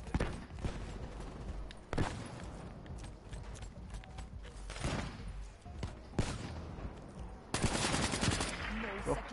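Rapid bursts of automatic gunfire from a video game, with nearly a full magazine emptied, crackle in clustered volleys with short pauses between, fairly faint, mixed with sharper individual shots.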